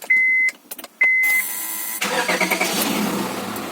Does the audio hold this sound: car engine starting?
yes